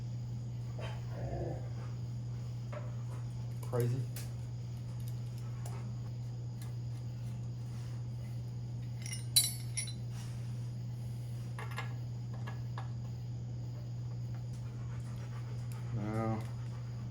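A dog pants and makes low rumbling sounds inside a truck over a steady engine or electrical hum, with a few short bursts of canine noise spaced out and a person speaking briefly.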